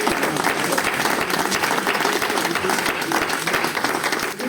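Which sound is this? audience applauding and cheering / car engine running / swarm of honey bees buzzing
audience applauding and cheering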